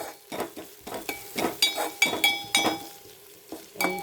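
Onions frying for a dry fish curry get stirred in a metal pan, with a steady series of close scraping clinks and knocks from the spoon and a faint sizzle beneath.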